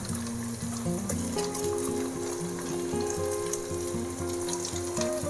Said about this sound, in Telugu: ఇప్పుడు ఇందులోకి మనం కడిగి పెట్టుకున్న మటన్ని వేసేసుకుందాము.